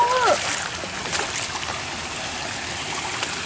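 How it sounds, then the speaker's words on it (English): A small waterfall in a creek splashes and trickles steadily, a close, continuous wash of water with a brief tonal sound at the start. "Oh, look, it's an actual waterfall. It's a little waterfall."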